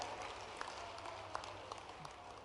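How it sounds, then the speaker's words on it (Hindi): Audience applause at a public event welcoming a government minister, a faint, steady patter of clapping from a crowd, heard from a distance with a few sharper claps standing out. "दोनों हाथ ऊपर के जोरदार ताली बजा के अभिनंदन"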